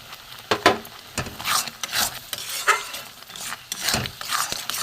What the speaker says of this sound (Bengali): একদম নেড়ে নেড়ে শুকিয়ে নেবো।